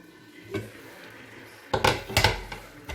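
Metal cookware clatter as a lid goes onto a pan of frying eggs for chekchouka, a soft knock early on, then a cluster of louder clanks and rattles near the end, close by with no talking.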